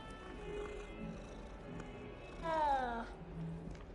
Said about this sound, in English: A cat! Kitty cat.